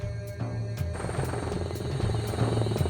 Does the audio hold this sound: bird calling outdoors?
no